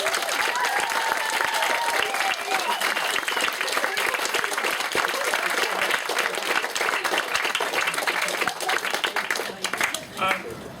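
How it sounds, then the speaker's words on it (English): Wedding guests give a long round of applause after a speech, with many hands clapping in a dense, lively wash that holds strong before thinning toward the end, and a few voices and cheers mixed in. "So can we have a big round of applause for everybody?"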